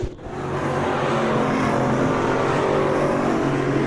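Street stock race car roars past the tower at a night race, a loud, sustained engine drone mixed with broad rushing noise from the track.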